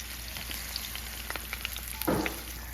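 Minced garlic fries in a pan as chopped green pepper, red pepper and onion are added: a steady close sizzle with small pops, then a sudden louder hissing surge as the vegetables drop in.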